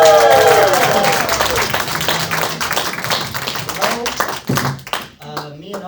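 Comedy club audience at a stand-up set bursts into loud, dense applause with whoops and cheers, the clapping thinning and fading toward the end as a voice comes in.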